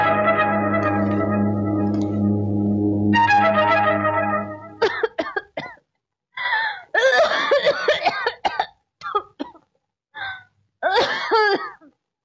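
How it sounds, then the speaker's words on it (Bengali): A person coughing in a dramatic film scene, a run of harsh, close bursts separated by short silences, following a held musical tone at the start. "হঠাৎ তোমার কাশি বেড়ে উঠলো কেন?"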